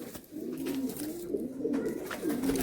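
Close, repeated cooing from Andhra pigeons in a home loft, soft throaty rolls rising and falling in a steady rhythm, with no speech.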